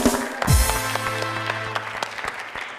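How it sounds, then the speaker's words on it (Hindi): A talk show studio audience applauds steadily for a few seconds, a dense patter of clapping hands, with a brief voice-like tone near the start. "तालियां हसन भाई के लिए।"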